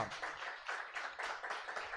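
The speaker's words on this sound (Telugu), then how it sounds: "చప్పట్లు కొట్టండి, హల్లెలూయా." A church congregation claps hands together in a steady, dense burst of applause-like clapping, fairly close and continuous for about two seconds, with no talking over it.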